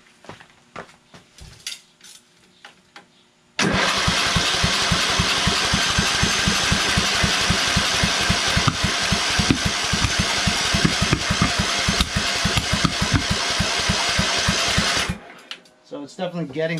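A Kohler Command engine on a Craftsman LT2000 lawn tractor with off timing fires up after some handling noises, then runs loud and rough with rapid pulsing knocks for about eleven seconds before cutting off abruptly.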